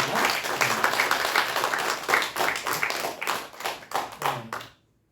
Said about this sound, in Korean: 박수를 한번 하겠습니다.